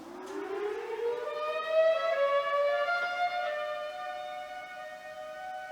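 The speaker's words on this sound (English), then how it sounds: "Frickin' sirens." A single wailing siren rises steadily in pitch and holds a long sustained tone, fairly distant and alone without talk.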